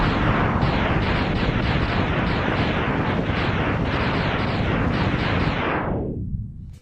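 A hidden weapon in a video game fires blue fireballs as a dense, continuous roar of bursts lasting several seconds before it fades out.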